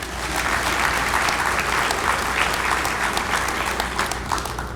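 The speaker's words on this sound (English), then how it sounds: "let's give all of them a round of applause." At a hall of fame awards ceremony, a large audience gives a sustained round of applause, a dense, even roar of many hands clapping with no pause.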